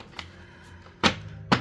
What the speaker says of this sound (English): they do a nice riffle shuffle